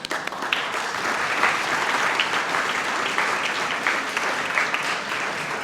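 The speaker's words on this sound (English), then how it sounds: "Let us all show our appreciation for her dedication with a round of applause" An audience at a Northern Aegean Region event at the Hellenic Centre gives a round of applause, dense and sustained clapping that holds steady at a moderate level from start to finish.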